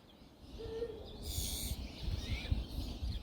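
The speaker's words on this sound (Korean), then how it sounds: "야생의 수리부엉이는 늘 경계심이 강합니다." A wild Eurasian eagle-owl gives one deep, short hoot near a feeding box. A brief higher bird chirp follows over a soft, rustling outdoor background.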